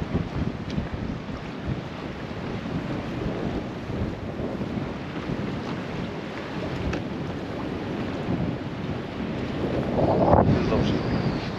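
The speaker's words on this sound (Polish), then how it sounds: "Wiatr wieje strasznie." Strong wind blowing at a carp fishing lake, buffeting the microphone with a steady low rumble and roar that swells toward the end, with faint water lapping beneath.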